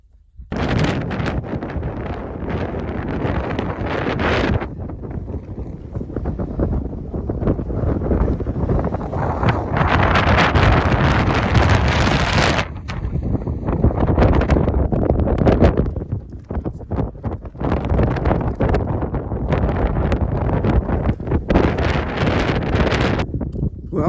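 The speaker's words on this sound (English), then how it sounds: "The wind is really strong up here." Strong, continuous wind roars across the exposed summit of Mount Elbert, Colorado's highest peak, buffeting the microphone in heavy gusts that swell and ease throughout with no voices coming through.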